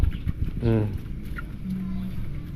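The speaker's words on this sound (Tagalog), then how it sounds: "Yung manok na pwedeng pasabong" A fighting cock clucks once clearly over steady outdoor noise, with a softer cluck shortly after.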